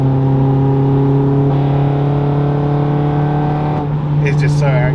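A Honda Civic FN2 Type R with a K24 engine swap accelerating in sixth gear, its engine droning steadily and loudly in the cabin with a rising tone; someone talks over the end.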